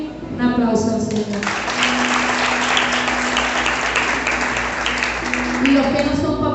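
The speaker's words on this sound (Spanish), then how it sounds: "Un aplauso al Señor." A church congregation breaks into sustained loud applause during a worship service, a broad wash of clapping lasting several seconds, with a voice speaking at the start and end.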